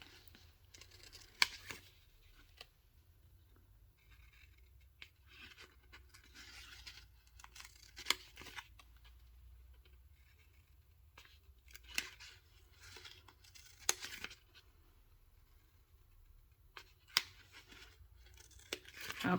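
Scissors snip through paper while a scrapbook border is cut, a faint, close series of soft crisp cuts and rustles with occasional sharper snips spread unevenly over the stretch.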